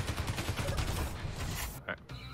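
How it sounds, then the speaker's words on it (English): Rapid gunfire in the video game Space Engineers, a dense crackle of shots at moderate loudness, with a brief voice near the end. "I hear lots of shooting"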